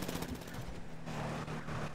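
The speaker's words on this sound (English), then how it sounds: "Uh-oh, who's shooting?" Gunshots ring out as a rapid, continuous crackle of reports, dense and fairly far off with no clear gaps between them.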